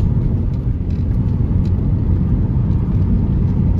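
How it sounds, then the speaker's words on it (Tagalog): Steady low exhaust rumble and road drone from a Nissan Sentra ECC's muffler while driving, heard from inside the car as a continuous, even hum with no talking. "Sarap nung tunog ng muffler."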